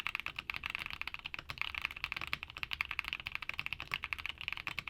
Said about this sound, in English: take a listen to how they sound